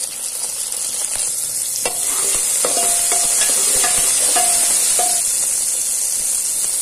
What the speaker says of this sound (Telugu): చిన్నగా కట్ చేసి పెట్టుకున్న ఆనియన్స్ వేసుకొని బాగా ఫ్రై చేసుకోవాలి